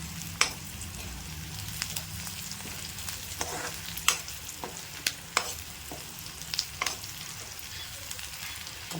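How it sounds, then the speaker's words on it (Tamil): Vegetables with asafoetida sautéed in a pan for raw banana thokku, a soft, even sizzle broken by sharp, irregular clicks and scrapes of a spatula. "போட்டு நல்லா வதக்கணும்"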